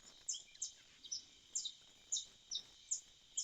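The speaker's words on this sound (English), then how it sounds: "those birds are loud, aren't they?" Small birds chirp loudly in a quick, repeated pattern of sharp, high tweets, about eight calls in steady succession with no talking.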